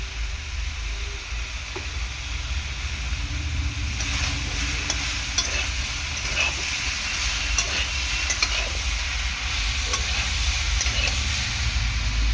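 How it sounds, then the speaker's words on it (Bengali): Ridge gourd and papaya being sautéed in a pan sizzle steadily with a continuous frying hiss, and soft stirring scrapes run through the sound at close range from start to finish. "তো ভালো করে সবজিটাকে এরকম কষিয়ে নেব।"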